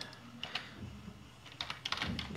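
Someone types on a computer keyboard at a terminal on a Raspberry Pi 3, giving a few quiet, scattered key clicks in short bursts against faint background noise.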